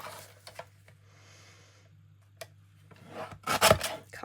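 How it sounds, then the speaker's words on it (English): A paper trimmer slices through book pages with a short sliding cut. Faint handling rustles and a low steady hum precede a louder burst of paper and blade noise near the end. "I'm going to use a trimmer because it is a bit quicker, even though it's a little bit more tricky to line up."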